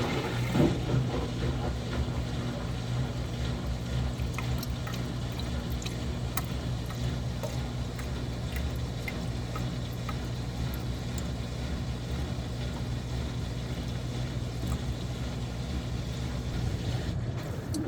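An RV washing machine spinning and draining, giving a continuous low mechanical hum and whir that holds steady throughout with no talking.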